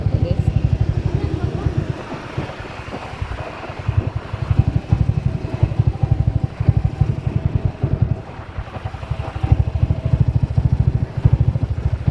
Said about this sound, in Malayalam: തിരക്കിലായതുകൊണ്ട് ബൈക്ക് പാർക്ക് ചെയ്യാൻ വന്നത്